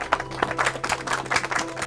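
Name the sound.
clapping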